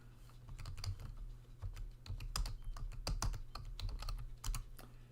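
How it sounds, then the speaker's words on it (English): Typing on a computer keyboard: quick, continuous clicking keystrokes at a fast, irregular rhythm, close and fairly quiet, with a low background hum and no talk. "I'm going to type this in here"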